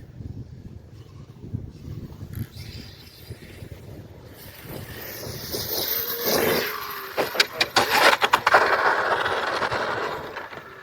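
Arrma Outcast 8S EXB 5th-scale electric RC monster truck driving outdoors, a rising motor whine with rushing wind noise that swells louder toward the end, with brief bursts of sharper clatter.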